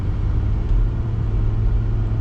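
A Ford Fairlane fitted with a Barra engine cruises at road speed, giving a steady, loud low rumble of engine and road noise with no pauses.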